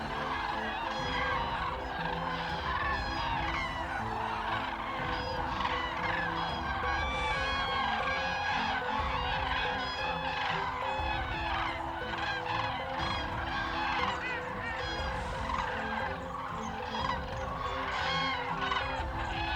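A large flock of common cranes calls across a wintering marsh reserve, a dense, continuous chorus of loud trumpeting honks from many birds at once, layered near and far without pause.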